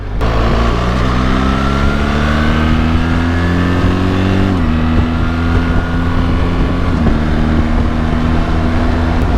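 A 2025 BMW 1300 GSA motorcycle pulls hard with a steady, loud engine drone that rises in pitch, then drops sharply twice as the automatic transmission shifts up a gear, with wind rushing throughout.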